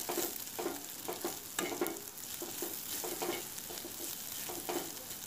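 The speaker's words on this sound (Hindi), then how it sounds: "एक बार और अच्छी तरह से इसे मिक्स करेंगे" Vidarbha-style sev chutney is stirred in a pan, giving a faint steady sizzle under rhythmic scraping strokes of a spoon, close and quiet, with no voices.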